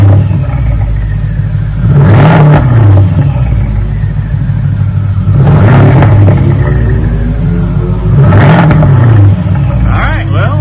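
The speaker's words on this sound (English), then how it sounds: "Hear those turbos pulling up." A 2013 BMW 550i twin-turbo V8 with a muffler delete revs three times, each blip rising to a loud throaty roar and falling back to a steady rumbling idle, close by.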